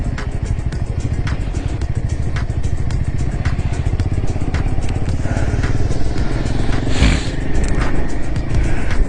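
A motorcycle engine runs loud and steady while the bike rides over a rough, stony, gravelly road climbing toward Umling La at about 19,000 feet, with rattling and clatter from the uneven surface throughout.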